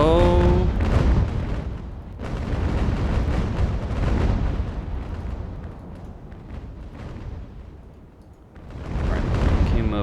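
Age-of-Sail warship cannons firing grape shot in a naval battle game, heavy booming broadsides rolling into long rumbling decays, loud and close, with a lull before another salvo.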